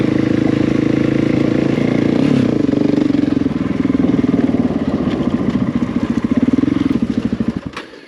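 An adventure motorcycle engine rumbles loudly and close by, revving and pulsing steadily before cutting off abruptly at the end.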